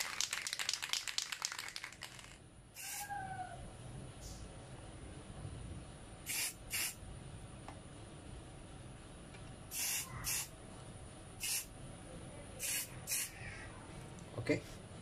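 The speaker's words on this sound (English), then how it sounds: "we will spray this receiver with clear paint." Short hissing bursts of clear paint from a spray can coat an RC crawler's receiver circuit board, several separate sprays in uneven rhythm, close and sharp, after some crinkling handling noise.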